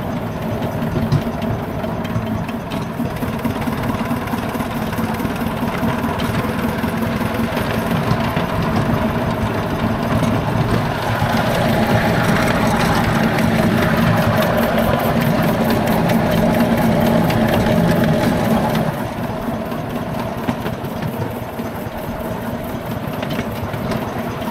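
Romulus type miniature railway locomotive running on a running day at Northcliffe Railway, a steady close-up engine chug with a busy mechanical clatter that swells slightly in the middle before easing back.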